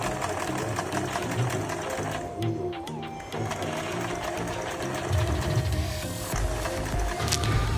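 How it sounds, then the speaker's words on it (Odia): A sewing machine runs steadily while stitching lehenga fabric, its close, loud mechanical whir continuing without a break for several seconds. "ଏବେ ଆମେ ସିଲେଇ ଆରମ୍ଭ କରିଦେବା।"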